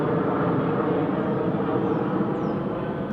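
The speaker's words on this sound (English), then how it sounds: "I hope you can hear me because the airplanes is coming by." An airplane passes overhead, a steady, broad, moderately loud roar that holds for the whole few seconds with no talking.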